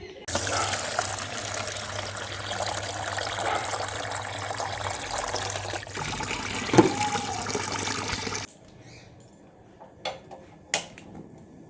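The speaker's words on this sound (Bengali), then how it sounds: "চলো ভাতটা, চালটা ধুয়ে আনি, ভাতটা বসিয়ে দিই" Rice is washed under a steady rush of tap water for about eight seconds, followed by quieter splashing and a few knocks as the wet grains are handled.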